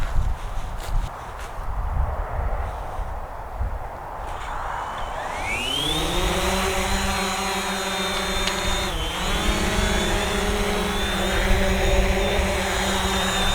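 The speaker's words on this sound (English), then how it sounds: "I'm going to do an auto takeoff." A Hubsan Zino drone spins up for an automatic takeoff: a rising electric whine climbs into a steady, buzzing multi-tone hum of the propellers and holds at close range, with a brief pitch dip midway.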